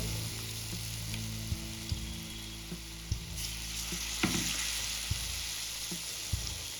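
Potato bhaji slices in gram-flour batter deep-frying in hot oil until golden, a steady loud bubbling sizzle with scattered light clicks of a utensil, close up and without talk.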